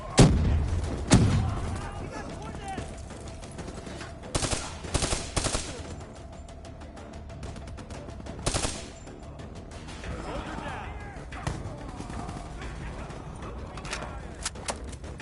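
Gunfire in a video game campaign: scattered loud shots and bursts go off at irregular intervals against a quieter background of game ambience, with some voices in between.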